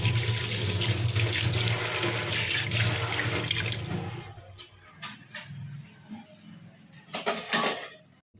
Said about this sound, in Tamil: இப்போ நம்ம கை வாஷ் பண்ணிக்கலாம்.